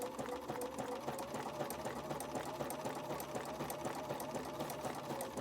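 Sewing machine stitching a truck-shaped appliqué, running at a steady even pace with a continuous rapid needle rhythm, close and fairly quiet with no voices.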